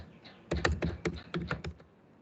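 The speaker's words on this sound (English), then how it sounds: "I'm typing University of Kerala." A short run of about eight distinct keystrokes on a computer keyboard, close and fairly loud, tapped at an uneven pace.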